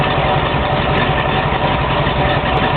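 A 1971 Jeep Gladiator engine idles steadily through a cheap exhaust, a loud, even low rumble close by with no revving, no voices.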